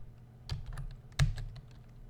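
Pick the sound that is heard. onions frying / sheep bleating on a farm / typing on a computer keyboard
typing on a computer keyboard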